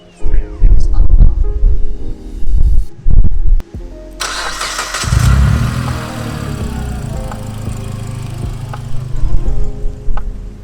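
Turbocharged Mitsubishi 4B11 engine in a Lancer with a new 2.5-inch exhaust pipe cranks and fires up after a few loud knocks and handling noises, then settles into a steady idle with revs rising briefly; close by.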